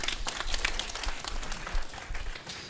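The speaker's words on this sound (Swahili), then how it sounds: "Tuwapigie makofi." Audience applause at a graduation ceremony, a dense, continuous spread of clapping from many hands in a large gathering, steady across the clip with slight swells.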